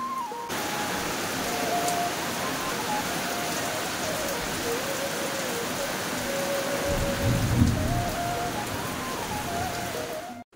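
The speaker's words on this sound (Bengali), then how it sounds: "তো একটুখানি অঝরের বৃষ্টির সাউন্ডটা তোমরা একটু শোনো।" Heavy rain pours steadily, a dense continuous roar with a deeper rumble swelling briefly near the middle; a faint thin tone drifts underneath and no one speaks.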